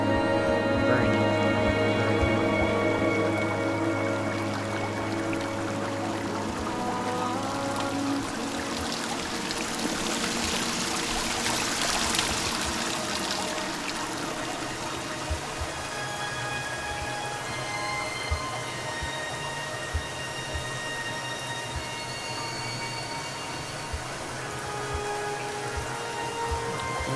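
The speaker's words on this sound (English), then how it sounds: "You can only hear the dripping of the water." Water dripping and trickling in the video game Dear Esther, a steady wet patter like rain on a surface with many small drops, continuous and fairly close, with ambient music tones underneath.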